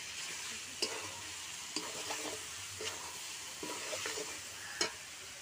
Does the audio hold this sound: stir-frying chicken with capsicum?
yes